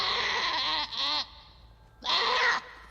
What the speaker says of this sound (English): Going after the sheep.